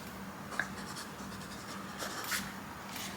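A Lamy Safari fountain pen with brown script ink scratches faintly across CVS notebook paper, soft intermittent strokes over a quiet background, the nib skipping slightly.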